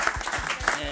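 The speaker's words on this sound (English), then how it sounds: "Round of applause, can we?" Audience applause at a coffee festival panel forum in Ljubljana, a brief burst of clapping from the crowd with a voice talking over it.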